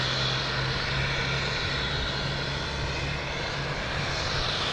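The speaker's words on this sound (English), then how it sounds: "And we have Delta almost here, coming in from DC." A Delta airliner on approach to Boston Logan airport, its engines producing a continuous broad roar with a low steady drone, loud and unbroken for the whole stretch.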